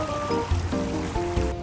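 Water flows steadily through a Japanese-style garden in a Tokyo park, a soft continuous trickling and babbling heard close by, with no talk.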